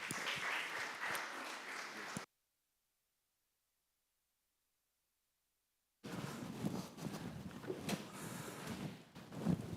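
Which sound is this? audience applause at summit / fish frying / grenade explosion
audience applause at summit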